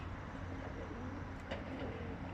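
A pigeon cooing while a male chases its mate, soft repeated coos close by over a low steady background hum, with no talk.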